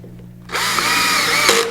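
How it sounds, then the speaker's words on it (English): A power drill drives a screw into the laminated side of a plywood RTA kitchen cabinet, with a short burst of loud, steady whine that runs alone for about a second. "it's screwing into the laminated side of the plywood"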